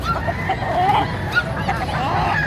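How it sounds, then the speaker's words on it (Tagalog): A chicken or rooster lets out a few short clucking calls over steady crowd babble and background noise, moderately near. "Parang may manok din dyan o."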